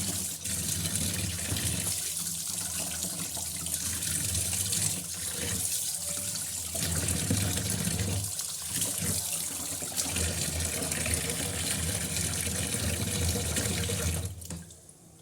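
A kitchen tap runs in a steady, loud rush as mackerel is washed under it, with faint sloshing changes as the fish is handled, before the flow stops at the end.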